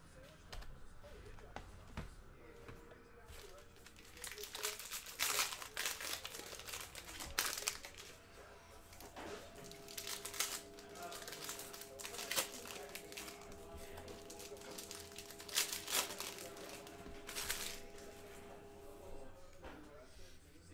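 Foil packs of 2019-20 Panini Mosaic NBA basketball cards are torn open and handled in a series of repeated close, crinkly tears and rustles, while a voice talks over them and a faint steady tone hums beneath.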